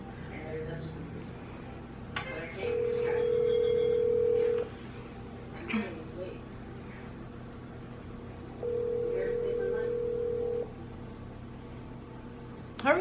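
An outgoing phone call rings while someone waits for an answer: two long electronic ringback tones, each about two seconds, separated by a pause, with a person talking quietly over the line.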